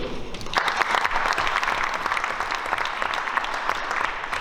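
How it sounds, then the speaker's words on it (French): An audience applauds at a formal French event honoring environmental writing and biodiversity work, a dense, steady roar of many hands clapping that swells in after a brief lull and holds strong throughout. "Je crois qu'on peut vous applaudir."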